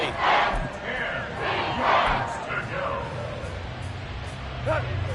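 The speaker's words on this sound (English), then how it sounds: "The Arrowhead crowd in full roar" Crowd roaring in Arrowhead Stadium during a Madden 24 football video game, a loud sustained swell of many voices with surging peaks, a few shouts rising out of the din.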